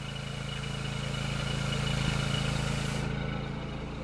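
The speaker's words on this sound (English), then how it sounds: "All I'm really hearing is the babbling of the exhaust coming out the side there." A Honda EU7000iS inverter generator runs inside a closed garage, its exhaust routed out through an extension kit. A steady low engine hum with a soft burbling exhaust holds even throughout, with no voices.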